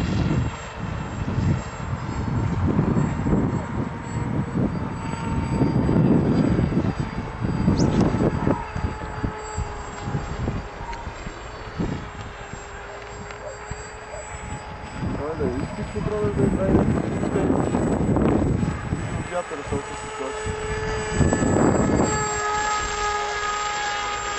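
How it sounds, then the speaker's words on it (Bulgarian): A steady high-pitched whistle from a model jet engine on an AXN Floater Jet runs throughout, mixed with loud wind rumble and bursts of talking. "Едно като свистене такова високо честотно, не знам дали го чуваш."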